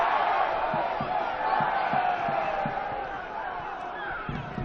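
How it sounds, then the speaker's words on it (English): Football crowd at a Hahn Australia Cup match between Sydney United 58 and Sydney FC, a broad, sustained roar of cheering stadium fans, with faint thumps of play beneath it. "The crowd really starting to come into the contest too."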